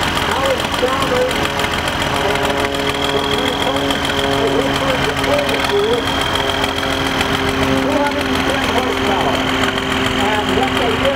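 A 70 horsepower Allis-Chalmers tractor engine running steadily at a tractor parade, a continuous droning hum with a faint periodic knock, with people talking over it.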